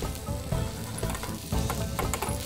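A salmon hamburg steak sizzles in a frying pan, a loud, close, continuous crackle of hot oil with small bursts of spattering, heard alone without speech.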